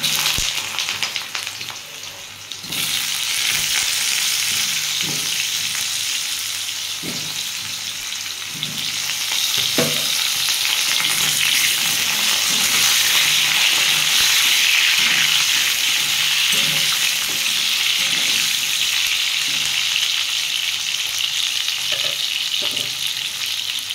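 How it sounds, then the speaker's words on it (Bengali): Pumpkin pieces frying in hot oil: a loud, continuous sizzle lasting throughout, with occasional soft knocks and stirring scrapes, no voices. "এর মধ্যে আমি একটু কুমড়োটা একটু হালকা করে ভেজে নেব।"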